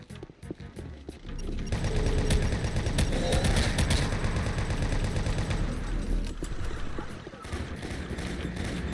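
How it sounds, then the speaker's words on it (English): Chain gun fire in Toby Doom, a loud, sustained rattling burst that starts after a couple of seconds and continues for most of the stretch before tapering off. "Okay, I got a chain gun."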